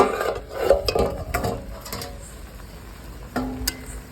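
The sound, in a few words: pot lid being opened on cooking cabbage curry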